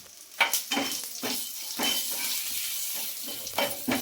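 Urad dal, chana dal and a broken dried red chilli fry in hot oil for a tomato-capsicum chutney, a steady soft sizzle broken by several scraping stirs of a spoon against the pan, close and without talk.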